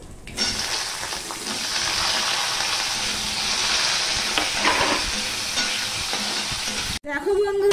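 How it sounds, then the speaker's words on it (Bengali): Cut, washed potatoes frying with panch phoron (Bengali five-spice) in a pan over medium-low heat, a steady loud sizzle with stirring scrapes throughout that cuts off abruptly near the end, followed by a brief different sound. "আমি মিডিয়াম টু লোতে রেখে ফোড়ন দিয়ে আলুটাকে 2 মিনিট মতন ভেজে নিয়েছি"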